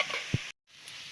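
Bottle gourd with salt and washed Gobindobhog rice is stirred and fried in a pan, giving a soft continuous sizzle, a single spoon knock, a brief silent cut, then quieter sizzling.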